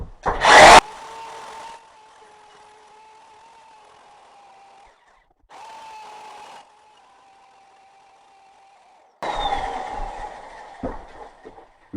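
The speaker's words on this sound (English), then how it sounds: "Put the bigger bit out of that set until you drill" Power drill with a large bit boring a doorknob hole through a solid wooden door, a sharp bite at the start, then a steady whining motor hum in bursts, stopping and starting again before finishing with rougher grinding.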